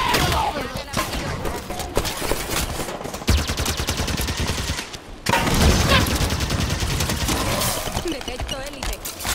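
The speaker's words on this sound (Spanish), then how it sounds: "¡Una élite me está disparando!" An Elite enemy in Halo 5: Guardians fires its weapons in rapid, dense bursts of gunfire. The shots are loud and close, with a brief lull partway through before the firing resumes.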